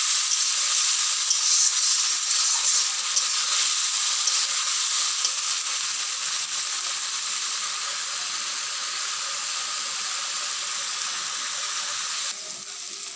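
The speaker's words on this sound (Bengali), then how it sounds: "টমেটোর মশলা একসাথে ভাজা হবে, টমেটো সেদ্ধও হয়ে যাবে," Tomato and spice masala fries in a pan, a loud bright continuous sizzle that eases slightly toward the end, with no talking.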